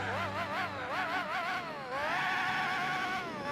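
A race car engine in the Gran Turismo 4 racing game revs hard, its pitch rising and falling in repeated gear-shift sweeps before settling into a sustained high, steady whine, loud and close with no talk.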